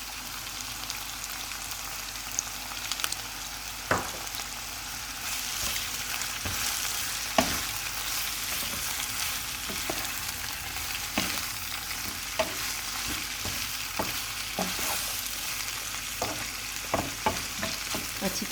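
Garlic chicken frying in a pan as black pepper, cumin, dried coriander and chili sauce are stirred in: steady close sizzle with repeated scraping stir clicks and spoon knocks throughout, no voices.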